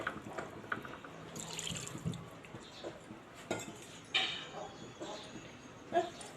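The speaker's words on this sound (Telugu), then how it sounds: "ఇందులో కొంచెం వాటర్ పోసుకొని" Water is poured into a clay cooking pot holding raw chicken for Guntur-style chicken curry, giving splashy trickles and drips with a few clinks of utensils, while someone talks over it.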